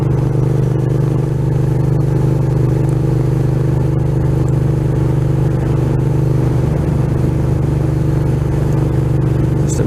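A Suzuki SV650 motorcycle carries two riders on a quiet mountain backroad at slow speed, its engine a steady loud drone under heavy wind rush that stays unbroken throughout.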